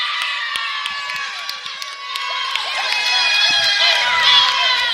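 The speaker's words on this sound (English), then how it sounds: "the roar of cheering girls behind us" Girls cheer and shout in a high school basketball gym after their team wins, a loud, sustained roar of voices that builds slightly over several seconds.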